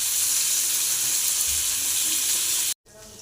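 Small fish sizzle and crackle steadily as they fry in hot oil, a loud continuous hiss that cuts off abruptly near the end.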